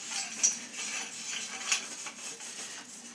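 Copper pipe rubbed briskly by hand to polish it, a steady close hiss of friction with a couple of sharper scrapes, continuous for a few seconds with no talk.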